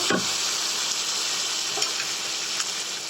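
Chicken and potatoes sauté in a pan for a Bengali potato-chicken curry, giving a steady, close sizzle with a few soft stirring scrapes and no talking.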